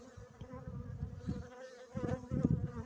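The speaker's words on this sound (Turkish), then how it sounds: "Kuvvetli bir arıymış." Bees swarm close around a wild honeycomb cut from rock, their dense buzzing droning continuously and swelling louder in bursts.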